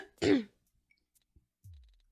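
A single sharp throat-clearing cough, loud and close, followed by quiet clicks and a low soft breath or hum, recorded during a casual Clubhouse Games play session.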